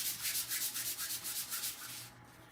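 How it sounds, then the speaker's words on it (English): Sandpaper rubbed back and forth over a Chalk Couture surface to smooth it, a steady run of rhythmic scraping strokes close up, stopping near the end with no talking. "just sand it, and that's going to help smooth it out really, really well. So it acts like a sandpaper."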